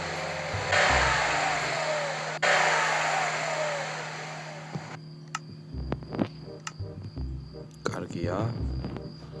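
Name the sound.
car engine revving while driving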